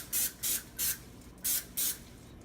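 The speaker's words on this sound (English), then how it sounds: "grease your dish with palm or any non-stick spray that you will have on hand" Non-stick cooking spray greasing a baking dish for a Trinidad and Tobago macaroni pie, heard as five short aerosol bursts of hiss at an uneven rhythm, close and fairly quiet, with no one talking.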